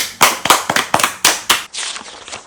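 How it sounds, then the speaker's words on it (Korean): A handful of sharp, loud claps in an irregular rhythm, close by in a Korean children's book lesson, followed by a softer, quicker patter of claps near the end. "자, 박수."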